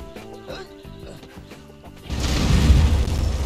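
A base wall is blown open by an explosive in the survival game Conan Exiles PVP, arriving as a loud, sustained boom and rumble after about two seconds of lighter clanking and game sounds.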